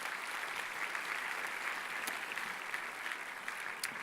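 An audience at a church gathering claps steadily, a dense, even wash of applause that holds for several seconds without letting up.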